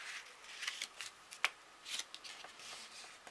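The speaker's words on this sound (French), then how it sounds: "On va plier de l'autre côté aussi." Paper is folded over on both sides during a craft tutorial, giving quiet, close crinkles and rustles with a few sharper creases, one crisp snap standing out.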